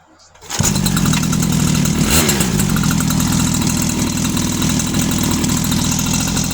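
A motorized bicycle engine starts up, then settles into a steady, close, continuous idle with an even putter that holds throughout.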